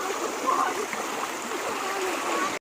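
A stream of water flows and splashes steadily, close and fairly loud, throughout on a walk through fields with friends.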